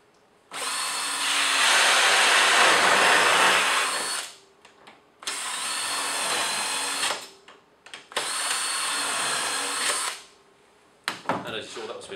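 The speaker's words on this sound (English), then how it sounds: "I'll drill my first hole arbitrarily," An ECODRILL cuts the centre hole for a Blum hinge in three loud, sustained bursts of high-pitched drilling whine close by, with short quiet gaps between them and a few clattering knocks at the end.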